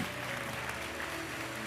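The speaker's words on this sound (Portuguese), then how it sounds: "Você pode aplaudir ao Senhor?" Applause from a church congregation during a Portuguese-language sermon, a short, steady wash of clapping with faint voices mixed in.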